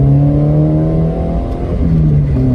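An Opel Corsa A GSI engine revs up loudly and steadily, its pitch climbing as it accelerates, briefly dipping at a gear change before rising again.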